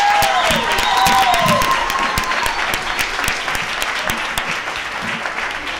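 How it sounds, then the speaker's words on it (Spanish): A crowd applauds with steady clapping, loud at first and gradually thinning, with a few excited voices calling out early on. "Un fuerte aplauso para sus niños nuevamente"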